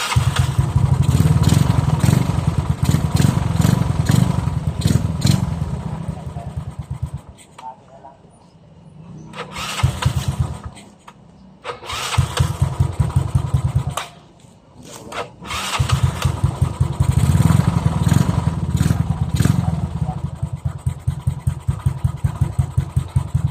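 A 160cc Mio Fino scooter engine with a 28mm roundslide carburetor struggles to start, then catches and revs loudly with the throttle, briefly dropping out and restarting before settling into steady revving with people talking nearby.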